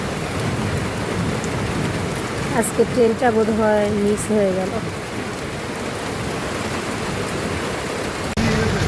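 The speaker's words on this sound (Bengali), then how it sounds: "এই বৃষ্টির মধ্যে তো বেরই হতে পারবো না।" Heavy rain drums steadily on an auto-rickshaw on a street, a loud dense hiss that runs throughout, with a low rumble of thunder beneath and a person speaking briefly over the downpour partway through.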